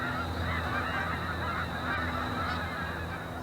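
Flock of geese honking continuously, a dense, busy chorus of overlapping calls that sounds fairly close and loud.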